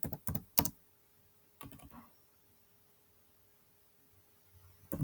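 Typing on a computer keyboard in short clustered bursts of quiet clicks, with a long pause before a few more keystrokes at the end, close and alone in a quiet room.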